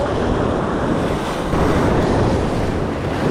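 Rough sea surf washes against a jetty in Corpus Christi, Texas, a loud, continuous roar of churning waves mixed with heavy wind buffeting the microphone.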